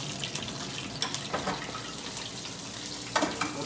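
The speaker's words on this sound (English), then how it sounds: "while our red fish is frying" Steady sizzling and crackling of red fish frying in hot oil, a continuous hiss with occasional sharper pops, close by.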